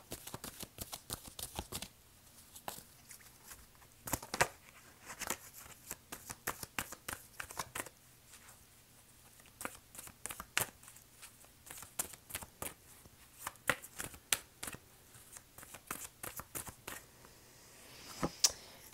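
Tarot cards being shuffled up close, a steady run of quick papery riffles and flicks in bursts, with no talk.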